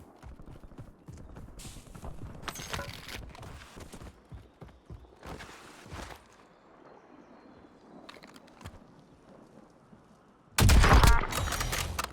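Gunfire from a hostile shooter in scattered bursts of sharp cracks, mostly at moderate distance, ending in a loud close volley near the end, with no one talking.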